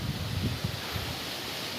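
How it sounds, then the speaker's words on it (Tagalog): Strong gusting wind during a super typhoon at a seaside area, roaring broadly and steadily at close range with brief low buffeting thumps and no voices. "Yan, lakas ng hangin."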